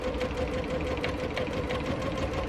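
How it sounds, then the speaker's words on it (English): A sewing machine runs a steady straight stitch along a decorative pillow case, its motor humming with a fast, even mechanical chatter that stays close and continuous throughout. "And just keep doing a nice straight stitch all the way down."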